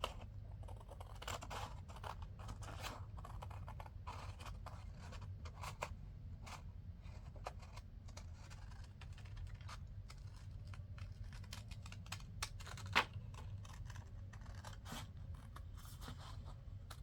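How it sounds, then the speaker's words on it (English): Scissors trim paper from an envelope booklet in a quiet room, giving faint, irregular snips and scrapes scattered throughout, with one sharper click near the end. "So now I'm just going to go ahead and trim this off."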